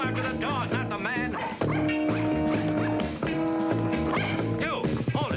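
A small dog named Princess yaps and barks repeatedly through a busy, loud musical score, with the yips blending into dense orchestral sound.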